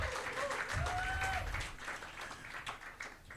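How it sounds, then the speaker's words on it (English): An audience at a media workshop event applauds, with a dense burst of clapping that gradually thins out. "please make some noise and a round of applause"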